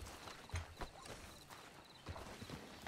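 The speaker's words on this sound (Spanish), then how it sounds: "voy a espantar el caballo" Horse hooves clip-clopping at a walk in the RedM Western roleplay game, faint and fairly distant, with a few irregular thuds over a steady background hiss.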